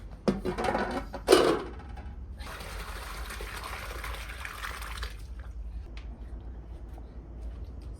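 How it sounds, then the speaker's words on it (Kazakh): A short clatter, then boiled ayran pours steadily into a cloth bag for a few seconds before tapering off into quiet trickling and faint drips. "Сол дорбаға жаңағы қайнаған айранды құямын."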